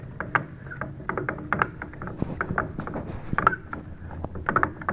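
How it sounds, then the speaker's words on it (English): Strap line being pulled by hand onto a spool, a close series of rattling, clicking mechanical sounds and scrapes in an uneven rhythm. "I'll pull this on this spool, rolling it to me."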